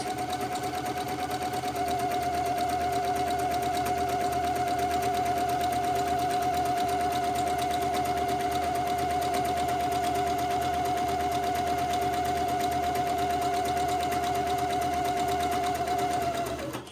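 A sewing machine runs steadily, stitching along the sleeve hem of a child's day gown, a continuous close whirring hum at an even speed with no pauses until a brief stop at the very end.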